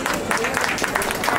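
Guests at a wedding clap in a continuous, even wash of crowd applause, close and fairly loud, while a voice speaks over it.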